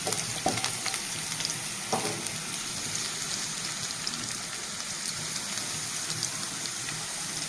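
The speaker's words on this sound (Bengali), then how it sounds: "রসুনটা একটু ভাজা হলেই আমি কচুরলতিগুলো দিয়ে দেবো।" Garlic frying in hot oil in a pan while cooking kochur loti with fish head, a steady close, bright sizzle and crackle throughout with a few soft stirring scrapes and no talking.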